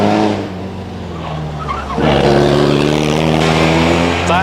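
A vintage sports car at the Prescott hill climb roars off the start line. The loud engine note rises and builds sharply about halfway through, close by, with no talk over it.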